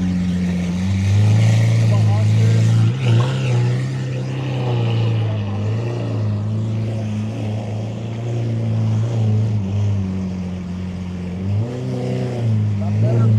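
A Chevrolet Malibu cruising with a steady, loud low engine drone and rumble that swells and eases with throttle changes, close inside the cabin, while a voice talks over it.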